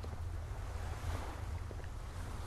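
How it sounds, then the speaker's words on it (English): Steady watery wash with a low rumbling bed, like surf or lapping waves, from an ambient environment in the horror video game Garten of Banban, continuous and moderately faint throughout with no talk. "What's making that water noise?"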